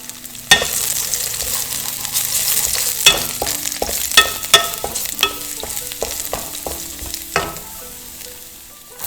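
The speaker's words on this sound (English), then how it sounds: "Add 2 tablespoons of cooking oil and slice garlic in a wok." Sliced garlic sizzles steadily in hot cooking oil in a wok, a close, hissing fry broken by several sharp clinks of a utensil stirring against the pan.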